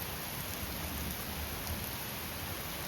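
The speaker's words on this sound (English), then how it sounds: "That rain won't stop." Steady, dense rain pours down outdoors during a thunderstorm, a constant loud hiss of drops hitting surfaces with no pauses or speech.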